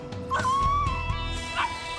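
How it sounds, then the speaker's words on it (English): A dog lets out a yelp outdoors near weeds at night, a couple of sharp high cries standing out against a steady low background hum. "I heard the dog let out a yelp."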